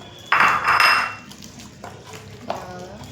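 Chopped green chilli, tomato and onion are tipped into a metal biryani pot, a loud clattering scrape of a utensil against the pot followed by fainter scrapes and a small metallic clink.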